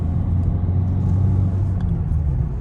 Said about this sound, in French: Ça accélère quand même.